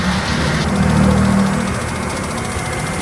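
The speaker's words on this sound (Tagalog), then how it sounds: "may napansin akong tunog na parang tunog bangka sa aking motor" A three-year-old Suzuki Burgman Street 125 scooter with just over 100 on the odometer, its engine running with an abnormal boat-like droning hum, steady and close with a slight swell near the start.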